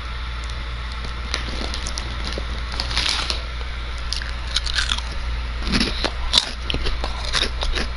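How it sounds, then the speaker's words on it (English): Someone munching vegetable sticks close by, a steady run of crisp crunching bites and chewing over a low constant hum, with a few louder crunches near the end. "Eating vegetable sticks."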